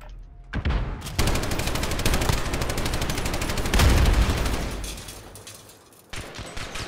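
Rapid automatic gunfire bursts from a Call of Duty Modern Warfare match, loud sustained volleys with a heavier stretch midway, then a pause and a few more shots near the end.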